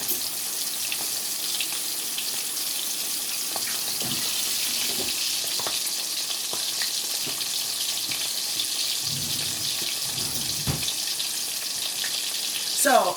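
Pollock fish coated in almond flour fries in a pan, giving a steady, close sizzling hiss with occasional pops and faint utensil clinks, no talking.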